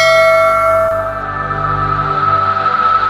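A bright notification bell chime rings with loud, sustained tones that hang and slowly fade, alone with no talk.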